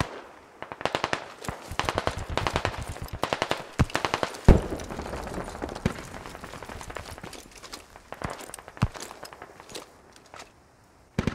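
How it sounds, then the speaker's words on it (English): Automatic gunfire in the video game Squad, with rapid bursts of close shots repeating in sharp rhythmic runs, a heavy blast near the middle, and scattered single cracks and footsteps in between, with no voices. "Guy in the tower on Swordmark shooting us in the back"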